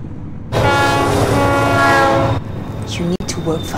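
A train horn blares loud and sustained over the rumble of a train running on rails, then cuts off and leaves rattling and clanking with sharp knocks.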